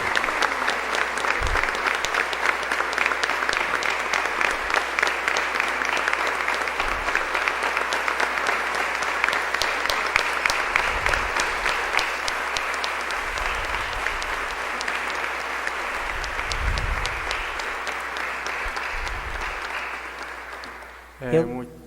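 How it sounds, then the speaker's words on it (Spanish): Sustained applause from a church congregation at a Catholic testimony and catechesis event, steady and dense for about twenty seconds before tapering off at the end. "Le damos un aplauso a Miguel Ángel"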